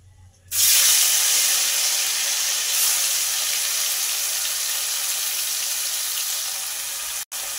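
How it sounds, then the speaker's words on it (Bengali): Small river fish go into hot oil after a quiet moment, and a sudden loud burst of sizzling follows, settling into a steady frying hiss with one brief dropout near the end. "এবার এই তেলের মধ্যে মাছ দিয়ে দেব, দিয়ে মাছটা ভেজে নেব"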